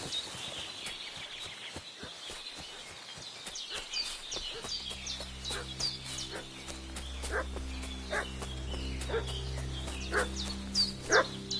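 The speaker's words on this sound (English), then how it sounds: "What's that dog making such a fuss about?" A dog barks, yips and whimpers in the medieval world of Kingdom Come: Deliverance 2, short excited bursts repeating over a low ambient drone with birdsong, moderately near.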